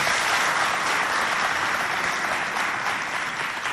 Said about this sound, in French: Applaudissez bien fort pour eux encore.